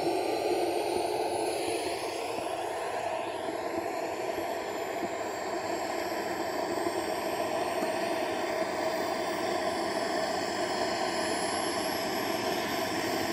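An RC turbine jet engine idling at about 17,000 rpm in an HSDJETS T-45 K70G4 model plane, a steady high-pitched whine and rushing roar held constant and close throughout, with no talking.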